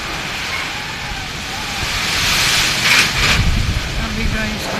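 Strong wind gusting outdoors ahead of an approaching typhoon, a loud steady roar buffeting the microphone and swelling in gusts toward the end.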